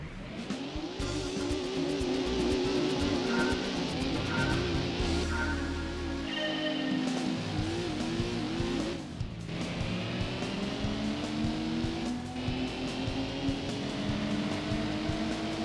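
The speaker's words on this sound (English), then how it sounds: "You can really feel this car is very fast." A fast car races in Gran Turismo 2 during a Toyota/Mitsubishi one-make event, its engine revving steadily with rising and falling pitch through gear changes and a brief tire squeal, loud and continuous without talk.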